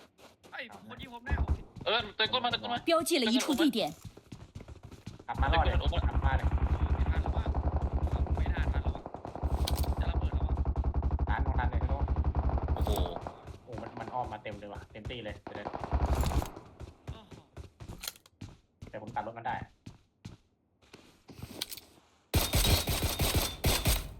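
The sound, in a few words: gunfire from players shooting in the video game PUBG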